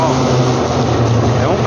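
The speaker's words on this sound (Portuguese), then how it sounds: "É um carro." Car passing on the street close by, a loud continuous engine rumble with a slight rise and fall over under two seconds, with someone talking over it.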